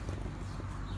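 Horse hooves clip-clopping at a steady walking pace on a vaquejada rodeo horse farm, close and fairly loud, with a low rumbling background and no talk over the steps.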